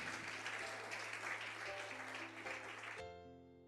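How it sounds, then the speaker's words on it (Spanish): Church congregation applauding the King during an evangelical service, a dense steady wash of clapping over a sustained organ or keyboard drone that cuts off after about three seconds, leaving the held keyboard tones alone. "Aplauda al Rey."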